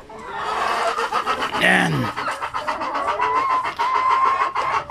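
Backyard chickens cluck close by in a confined coop setup, with a brief louder squawk partway through, over a steady murmur of background sound and a short spoken word.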